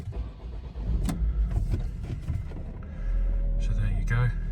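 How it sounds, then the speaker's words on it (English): A 2012 Volvo C30 R Design 2.0 is started from cold. Cabin rustle and clicks give way to the engine catching, then a steady, close idle hum that holds to the end. "start the car for you, so you can see there's no warnings"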